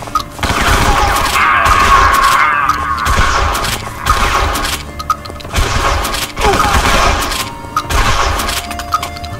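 Loud shotgun fire in the action game Guns, Gore and Cannoli comes as repeated bursts of shots and booms, with short pauses between volleys.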